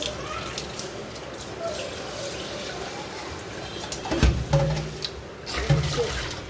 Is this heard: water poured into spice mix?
yes